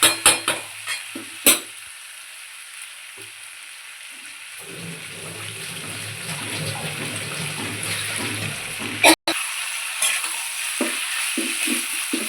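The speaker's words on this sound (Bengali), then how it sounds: "এটা তেল ছেড়ে আসবে, এর কষাতে হবে" Chicken mince and chickpeas stirred in hot oil with garam masala, a low steady sizzle with occasional spatula knocks and scrapes against the pan, close and fairly quiet, no talk.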